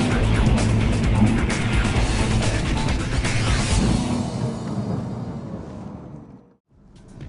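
A Lotus Evora S IPS with automatic transmission being driven at a rising pace, its engine note loud and steady before easing off and fading as the car moves away.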